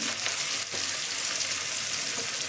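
Potatoes, berries and green chillies frying in a pan with bay leaf and five-spice seeds: a loud, close, continuous sizzle with a brief crackle of stirring and no voices.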